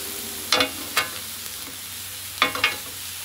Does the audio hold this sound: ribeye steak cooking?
yes